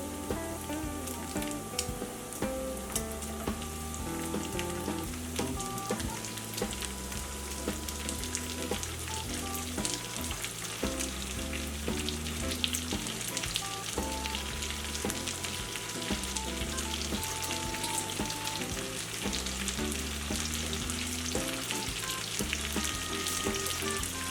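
Chopped onion frying with bacon in a pot, giving a steady, dense sizzle and crackle close by throughout, with occasional stirring and no talking.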